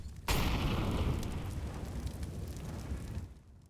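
A grenade detonates in CS:GO on the Train map in a match between esports teams: one sudden loud blast that rumbles and slowly decays over about three seconds.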